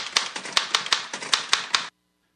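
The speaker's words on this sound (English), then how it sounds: "When you hit a key on a real old typewriter, you knew you were hitting a key." Old typewriter keys struck about ten times in a fairly even rhythm, each a sharp, close clack, ending abruptly in silence.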